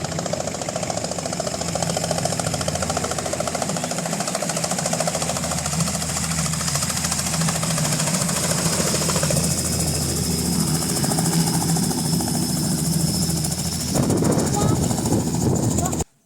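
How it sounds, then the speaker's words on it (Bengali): A helicopter arriving at a resort helipad, heard as a loud, continuous throbbing rotor and engine drone that holds steady and swells near the end, with faint voices now and then. "এর মধ্যেই কিন্তু হেলিকপ্টারটি চলে এসেছে"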